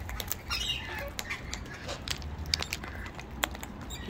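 A wild bird squawks in short, harsh bursts at close range while being fed a new seed mix at twilight, with light rustling and movement around it.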